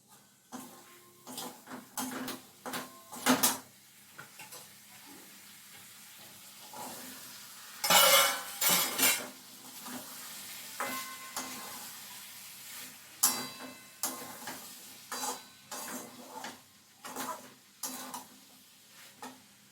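Ghugni simmering in a pot while it is stirred: a soft sizzle under repeated clinks and scrapes of a spoon against the pot, heard up close with uneven pauses.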